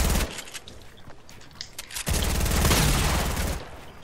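Fortnite gunfire: a sharp burst opens, scattered shots follow more faintly, then a loud sustained rapid volley hammers close by before cutting off.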